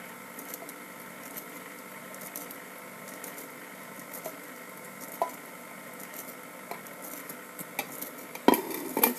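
Batter ingredients with buttermilk being mixed in a bowl, soft wet stirring and squishing with occasional light clinks of a utensil against the bowl, a few louder knocks near the end.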